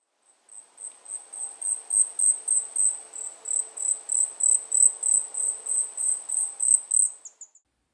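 An Asian stubtail sings a thin, high, cricket-like series of rapid sibilant pulses, steady and fairly close, running for several seconds before trailing off, with faint forest ambience beneath.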